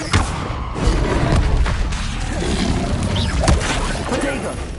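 Levioso levitation spell being cast in the Hogwarts Legacy video game, its magical whoosh set among dense, noisy duel effects with repeated thuds and crashes throughout.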